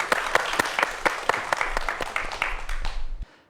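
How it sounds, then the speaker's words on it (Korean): A lecture audience claps for a speaker on cyber security and IoT hacking, giving loud, close, brisk applause with distinct individual claps that fades out abruptly near the end. "예, 박수 부탁드리겠습니다."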